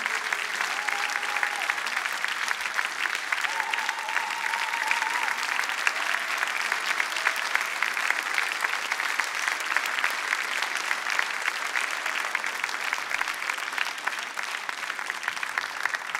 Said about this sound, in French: Je pense que vous pouvez applaudir plus fort encore